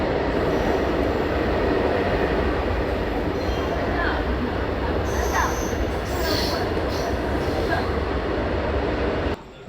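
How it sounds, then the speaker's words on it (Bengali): Intercity Express train pulling into Bhubaneswar, a loud steady roar of rolling wheels with high wheel squeals rising now and then, close and continuous until it cuts off at the end. "ফাইনালি ট্রেন এসে পৌঁছালো ভুবনেশ্বর"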